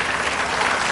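A television studio audience gives a short, dense burst of applause, a continuous wash of clapping.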